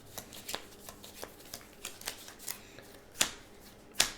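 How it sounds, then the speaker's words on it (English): A deck of cards for the Clank! Catacombs board game being shuffled, a run of quick soft riffling flicks ending in two sharper, louder snaps near the end, close and alone with no talk. "Okay, shuffle real quick."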